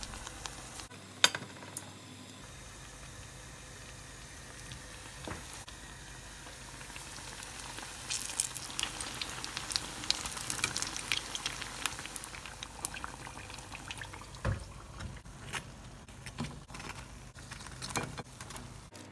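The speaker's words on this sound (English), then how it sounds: "Dip each slice into the batter and fry this." Batter-dipped aubergine slices deep fry in hot oil, a steady bubbling sizzle that swells and stays busy for a long stretch, with occasional clinks and light utensil sounds, no talking.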